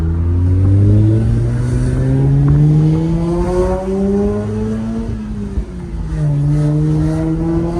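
A Mazda RX-8 with a titanium exhaust revs loudly up and down several times nearby, its exhaust note swelling and dropping with each throttle blip.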